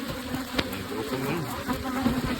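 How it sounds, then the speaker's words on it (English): Honey bees buzz densely around an opened hive during a late-summer split, agitated and close, a steady humming swarm with individual bees zipping past the microphone. "the bees are not liking this one"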